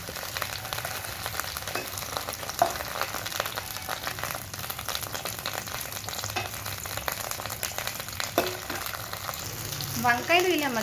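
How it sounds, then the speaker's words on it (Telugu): Cut brinjals fry in a little oil in a kadai, a steady close sizzle and crackle that runs throughout, with occasional stirring scrapes and a brief clatter near the end. "ఇప్పుడు ఒక కడాయిలో 2 స్పూన్స్ ఆయిల్ వేసుకోవాలి. ఇప్పుడు కట్ చేసుకున్న వంకాయలను వేసుకుని"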